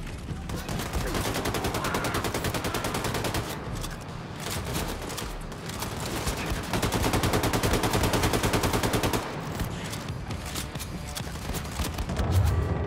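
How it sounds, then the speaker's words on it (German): Relentless automatic gunfire in the shooter Wolfenstein 2: The New Colossus, rapid rattling volleys that keep going nearly nonstop with brief lulls, loud and close. "Wer schießt denn hier auf mich?"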